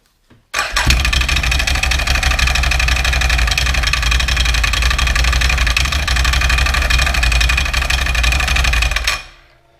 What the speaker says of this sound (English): That's what the CV Tech sounds like